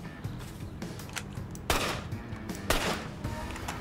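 Rapid turret gunfire in the video game Saleblazer rattles in repeated short bursts, sharp cracks piling on each other at moderate volume against a busy game background.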